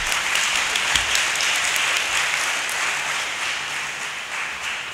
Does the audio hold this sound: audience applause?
yes